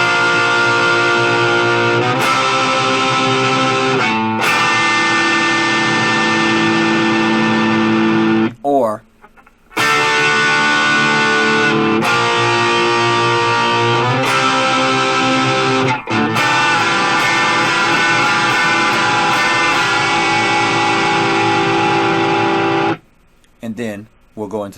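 A guitar strums the chords of a song in sustained blocks with some distorted effect, broken by short gaps and quick muted scrapes, close and loud.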